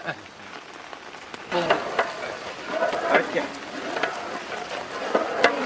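A spoon scrapes and stirs orange marmalade with sugar in a pan over a village cooking fire, with soft sizzling and bubbling and repeated clicking scrapes, while a voice talks in the background.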